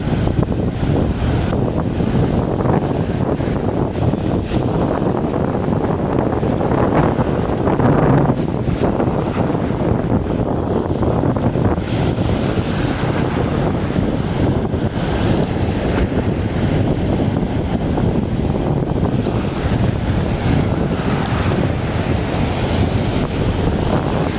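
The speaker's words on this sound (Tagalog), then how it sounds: "Grabing alon." Big ocean waves and strong wind at sea around a fishing boat, a loud continuous roar of surf and gusting wind buffeting the microphone with no talk.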